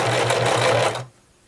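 A sewing machine stitches a seam in a loose romper with an elastic-shirred top, a loud close whirring run that cuts off cleanly after about a second.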